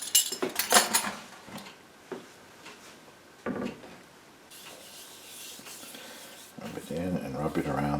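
Salt being rubbed by hand over the surface and around the sides of a round of homemade Camembert cheese, giving soft, intermittent scraping and rubbing strokes, close and quiet, with a few sharper handling knocks and some speech.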